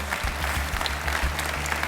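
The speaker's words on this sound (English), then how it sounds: "That's worth a round of applause." Brief burst of audience applause at an awards dinner for student scholarships, many hands clapping in a steady, moderately loud patter with a low hum of the room beneath.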